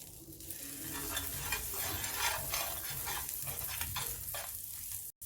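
Butter sizzles and fries on a heated nonstick tawa for pancakes, a steady close crackle of frying that runs without a break and stops abruptly at the very end.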